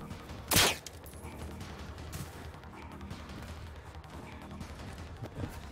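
A single sharp, loud blast from a high explosive round fired in the video game Generation Zero, followed by a low rumbling game background and a softer thump near the end.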